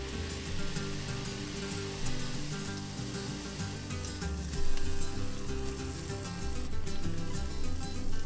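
Buñuelos frying in hot oil, a steady close sizzle and crackle that swells slightly as batter drops in, with no voices.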